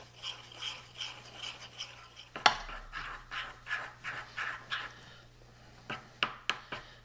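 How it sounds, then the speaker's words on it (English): A spoon stirs whole milk into powdered sugar icing in a bowl, giving a steady series of soft rhythmic scraping strokes with an occasional sharper clink. "So we're going to have add some milk, whole milk, to our powdered sugar. And we're just going to stir this together until it's smooth."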